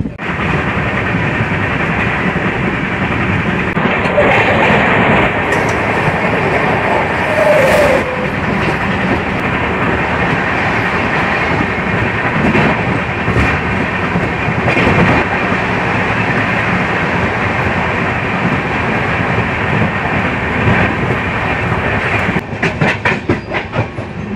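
A Bhubaneswar–Rameswaram weekly express passenger train rolls on near Thanjavur and Tiruchirappalli, giving a loud, steady rumble with continuous clickety-clack of wheels over rail joints for the whole stretch, and no voices.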